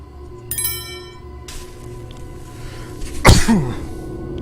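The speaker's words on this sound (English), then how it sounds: "I sneezed." One sharp sneeze from a person, loud and close, rising suddenly out of low background sound with a short squeaky tail, heard once without talking.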